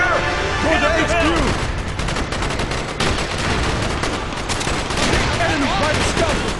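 Mortar blasts and rapid gunfire from a first-person shooter war game, loud and sustained with dense overlapping shots and booms throughout.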